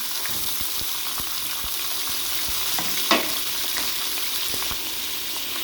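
Small pieces of mutton frying in a pot, with a steady broadband sizzle and repeated scraping clicks of stirring, plus one louder knock of a spoon against the pot midway.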